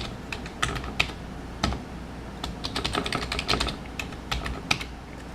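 Password typed on a computer keyboard while setting up a 7 Days to Die dedicated server: irregular close key clacks, some single and some in quick clusters, over a faint steady background hum.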